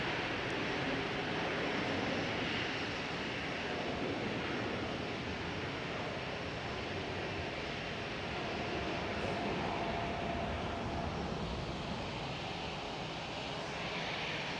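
A KLM Boeing 787 airliner passes at Amsterdam Schiphol, its engines producing a broad, steady roar that holds loud and even throughout with no pause.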